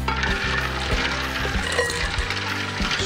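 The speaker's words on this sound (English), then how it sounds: "Stir it around a little bit more" Brisket-related food sizzles steadily in a hot pan on a grill while being stirred, a continuous close frying hiss with low rumbling underneath and no talk.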